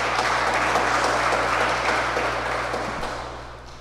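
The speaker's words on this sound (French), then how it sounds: "Je vous demanderai de l'applaudir à nouveau." An audience at a religious apologetics conference claps steadily, a broad wash of applause that holds and then slowly fades toward the end.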